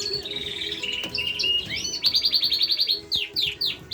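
Norwich canaries feeding their young in an aviary, bright rapid chirps and warbling trills close by, growing into a run of repeated sharp cheeps from the begging chicks over faint background hum.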